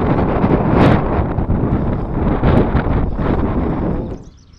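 Strong gusting wind at Mather Lake buffets the microphone, a loud rough rumbling roar that swells and eases in waves before dropping away at the end.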